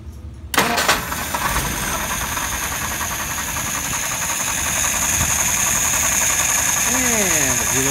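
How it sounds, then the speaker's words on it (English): An engine that has been left to cool is restarted warm: a quick crank catches almost at once, then settles into a steady, loud, close idle that continues to the end. "We're going to go ahead and do that warm restart and stump."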